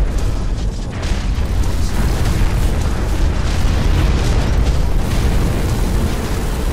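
A turret being destroyed in the mech combat game Hawken, with loud, sustained, rumbling explosion and blast noise filling the whole stretch alongside heavy mechanical clanking.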